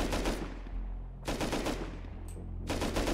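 Automatic gunfire in the survival video game Rust, three loud, dense bursts of rapid shots separated by short gaps, with no talk over them.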